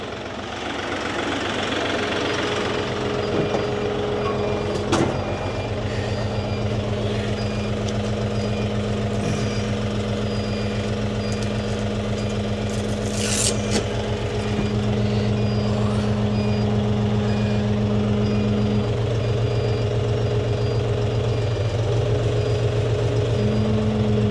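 A motor runs to drive a converted hydraulic hedge trimmer, giving a steady, fairly loud mechanical drone with a constant hum for the whole stretch. No voices are heard.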